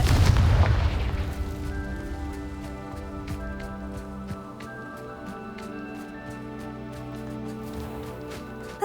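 A Confringo spell fired in the Hogwarts Legacy video game goes off with a single heavy boom at the start, whose rumble and ringing tones fade under steady game music and ambience.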